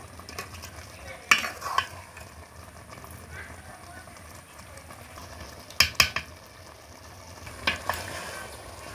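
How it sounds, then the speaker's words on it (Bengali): Meat and fat braise in a pot with a soft background sizzle, broken by several loud, sharp scrapes and knocks of a spoon stirring against the pot, while a voice talks throughout. "আবার একটু নেড়েচেড়ে খুব ভালো করে কষিয়ে নেব, তাহলে চর্বিটা খুব ভালোভাবে সেদ্ধ হয়ে যাবে।"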